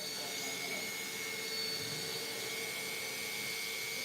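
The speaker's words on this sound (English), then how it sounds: "These fans are working." Small electric cooling fans in a radio-controlled car spin with a steady, even whir and a thin high whine, holding constant and fairly close throughout.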